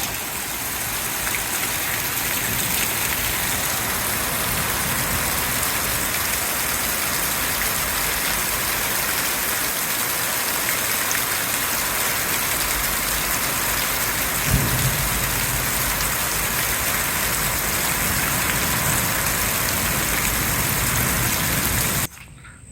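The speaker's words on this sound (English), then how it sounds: "Last night and this morning we had some crazy thunderstorms come through." Heavy rain from a thunderstorm pours down steadily and loudly, a dense continuous hiss with a low rumble of thunder partway through, ending abruptly.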